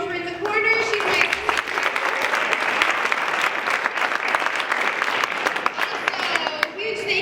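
A high school show audience breaks into sustained, dense applause for the songwriter, loud and steady for several seconds, with voices audible under the clapping.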